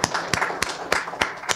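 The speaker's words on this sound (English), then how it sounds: "Everybody give Craig a round of applause" Sparse, rhythmic clapping for Craig at a comics-creation talk, about five sharp claps spaced roughly a third of a second apart, fairly close and moderately loud.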